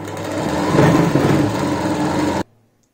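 A sewing machine runs steadily for over two seconds, stitching elastic around the round waist of a palazzo, close and fairly loud, then cuts off abruptly into near silence.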